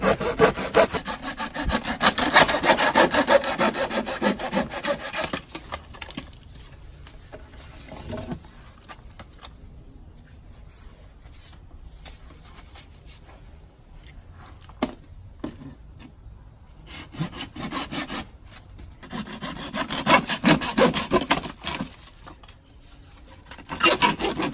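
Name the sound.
hand sawing a French drain pipe to length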